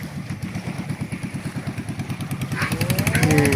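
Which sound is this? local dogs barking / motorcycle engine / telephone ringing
motorcycle engine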